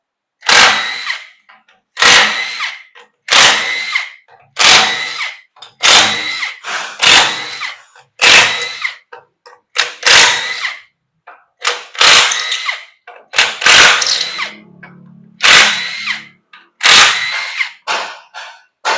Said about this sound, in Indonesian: ini baut 12 juga sekeliling ya dibuka semua